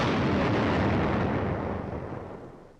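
A 500-pound bomb blasts into a ship, a loud, dense roaring explosion that rumbles on and slowly fades over a few seconds, with no talk.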